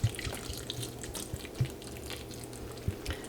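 Water poured into potted plants during watering and feeding, a soft steady trickle and splash with a few brief drips, fairly quiet and close, with no talking.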